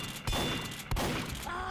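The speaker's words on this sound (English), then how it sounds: "I got a critical hit with a shotgun that has less ammo." Shotgun blasts in a team-based shooter game, two heavy booming shots about 0.7 seconds apart over a dense, busy game soundscape.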